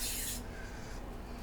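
A short aerosol spray hisses onto rusty, crumbling hose clips on a Porsche 914 during gas tank removal, loud for a moment, then giving way to a quieter rubbing hiss and low hum.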